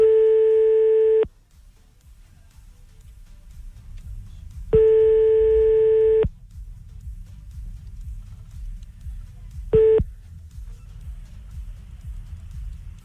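A telephone line tone sounds while a call is placed back to a radio show, three loud steady beeps separated by silence, the last one shorter, with faint background hum between them.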